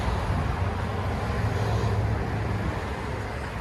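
Steady, loud low exhaust rumble from a Chevy Tahoe 5.3L V8 fitted with a 14-inch Magnaflow muffler and quad tips, an even drone held alone for a few seconds with no talk.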